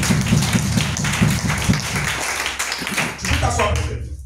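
A church congregation at an evangelical service claps and acclaims the Lord with dense applause and cheering voices mixed in, which thins out and fades near the end.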